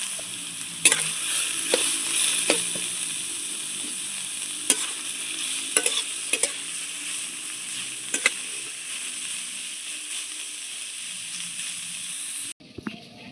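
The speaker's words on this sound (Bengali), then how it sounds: "বাকি যে চাল গুলো ছিল হাতে কাটা সেগুলো এবার দিদা একসঙ্গে দিয়ে ভেজে নিচ্ছে" Hand-cut rice is stir-fried in a pan at home, a steady hissing sizzle with scattered sharp scrapes and taps of the stirring utensil, ending with a sudden cut near the close, with no talking.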